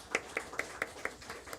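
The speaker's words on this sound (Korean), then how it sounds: "박수 한번 쳐주세요." Light, sparse clapping in a church: about seven soft, evenly spaced claps at a quick steady rhythm, fading slightly toward the end, with no talking.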